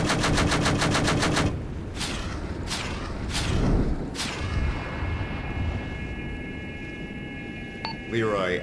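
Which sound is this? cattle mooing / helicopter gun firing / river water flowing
helicopter gun firing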